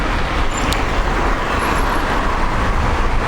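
Road traffic in Nanning, China, heard from an e-bike as vehicles pass: a steady, loud roadway roar of engines and tyres that runs throughout without letup.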